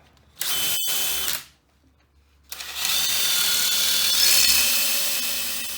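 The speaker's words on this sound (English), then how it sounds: "Now I'll drill that for my rod" A power drill bores through the wooden tail board of a homemade wolf stretcher, running in two close, loud bursts: a short one, a brief pause, then a longer steady grind with no talking.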